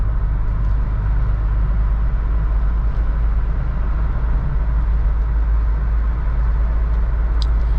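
A 1985 Toyota Pickup with a 2.4 liter carbureted 4-cylinder engine drives steadily, its loud, constant low drone and road rumble filling the cabin without a break.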